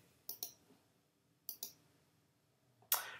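Computer mouse clicks sound in quick pairs, two double clicks spaced about a second apart and then a sharper, louder click at the end, all close and crisp against a quiet room.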